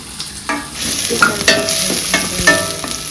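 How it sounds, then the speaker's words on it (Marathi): Matki (moth beans) fry in hot oil with a loud close sizzle, punctuated by clanking spoon strikes and scraping as the beans are stirred around the pan, with no voices. "आता टाकलाय तेल मटकी फ्राय करून घ्यायची"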